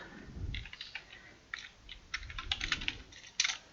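Typing on a computer keyboard with repeated Tab key presses, heard as short bursts of clicky keystrokes separated by brief pauses, close and fairly quiet, with no voices.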